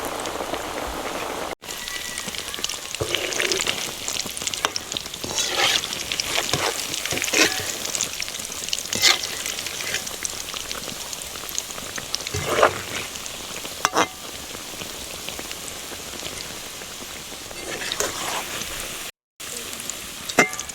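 Soybean muitha balls coated in biscuit crumbs frying in oil, a steady crackling sizzle with popping bursts throughout, alone and fairly loud.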